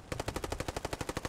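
Rapid automatic gunfire in the Post Scriptum war game rattles out as an even burst of about fifteen quick shots, fairly close and alone.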